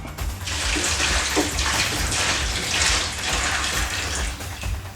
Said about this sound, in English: get this cleaned out and put some fresh water in